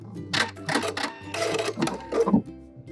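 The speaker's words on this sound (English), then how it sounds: "Back stitch at the end and cut." A home sewing machine back stitches at the end of a hem on a turtleneck, giving several short loud bursts of rapid mechanical stitching separated by brief pauses, close up with no talking.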